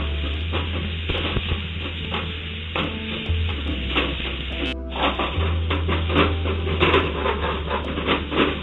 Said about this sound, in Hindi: मसाला ऐड करने के बाद हमें स्लो फ्लेम पर इसे अच्छे से भूनना है।